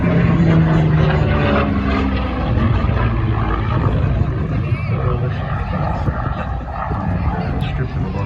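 An aircraft at the 2019 Edinburgh RAAF airshow makes a loud, steady engine drone that lasts the whole time, while people talk nearby.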